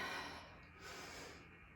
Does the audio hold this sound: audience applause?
no